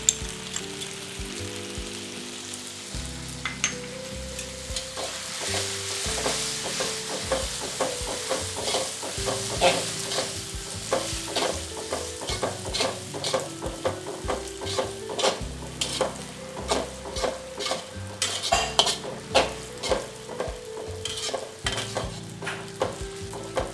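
Kuey teow noodles sizzle in a hot pan with soy sauce while a utensil scrapes and clacks in quick, irregular strokes of stirring, close and continuous.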